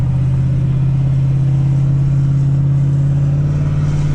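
A tuned 2024 Ford 6.7 Powerstroke diesel pickup rumbles steadily as the gas is lightly tapped, a deep, loud, close engine drone holding an even pitch with no voices.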